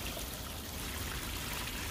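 Water pours steadily from an outdoor shower mounted on a 2018 Mercedes Sprinter 144 wheelbase crew van, a continuous close, loud hiss and splatter with no pauses.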